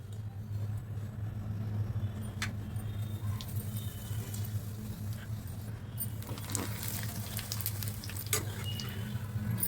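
Papad frying in hot oil in a home kitchen: a faint, steady sizzle and patter over a low hum, with a few scattered clicks and no talking.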